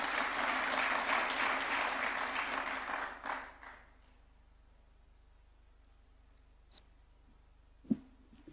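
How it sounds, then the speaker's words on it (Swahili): Applause for the assistant captain of Nairobi United FC at State House, Nairobi: steady clapping from a crowd that fades out after about four seconds, leaving quiet room tone and a couple of faint knocks. "Tumpigie makofi akija"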